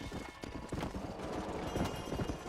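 Horse hooves clip-clop steadily on hard ground in the video game Red Dead Redemption, several close hoofbeats overlapping in a brisk, continuous rhythm.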